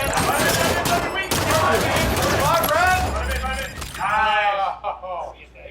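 Rapid DMR gunfire from the Halo 5 video game crackles in repeated bursts, loud and close, under someone talking excitedly over it.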